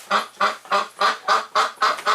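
A duck kept through winter as a patient quacks eight times in a steady, evenly spaced run, loud and close, with no other sound.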